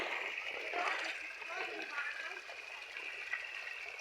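Floodwater rushes and splashes steadily during heavy Habagat monsoon rain, a continuous close gushing wash with sloshing surges throughout.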